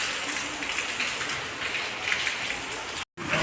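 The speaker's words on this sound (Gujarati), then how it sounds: "વરસાદ ખૂબ ચાલુ છે." Heavy, steady rain pours down continuously, a dense hiss filling the scene with only a brief dropout near the end.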